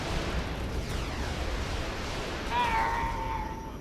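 Rocket strikes on enemy units in the strategy game Regiments, a steady roar of explosions and rumble with a whistling streak rising near the end, loud and continuous with no talk.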